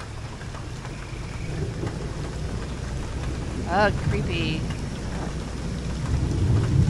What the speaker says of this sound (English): let's get in out of the rain